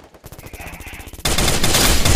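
Automatic gunfire in Garena Free Fire starts as rapid, evenly spaced shots, then swells into a loud, dense burst of fire for the last second.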